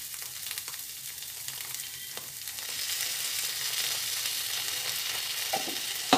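Mustard paste fries in a pan with a steady hiss and sizzle that grows louder midway, plus faint stirring scrapes and no talk.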